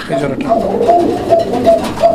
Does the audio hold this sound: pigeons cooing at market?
yes